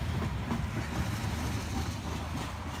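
An HO scale model train rolls steadily along its track with a continuous rumbling clatter, close and moderately loud, with no voices.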